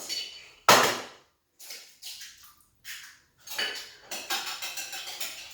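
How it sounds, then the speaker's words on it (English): Eggs being mixed in a bowl, with one loud clank from the utensil striking the bowl followed by a series of lighter, irregular scraping and tapping strokes close by, with no voices. "What I do is I basically mix the eggs first."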